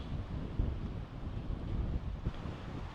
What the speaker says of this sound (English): Very breezy again down here.